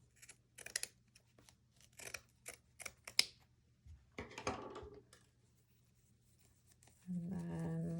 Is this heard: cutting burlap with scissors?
yes